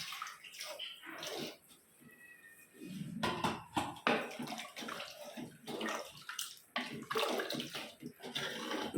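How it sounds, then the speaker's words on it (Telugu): Water poured into a pot of sambar, an irregular close splashing and gurgling with bursts of pouring and brief pauses, some faint dull clinks of the vessel. "ఇదిగమ్మా ఇంకా కొంచెం వాటర్ వేస్తున్నాను"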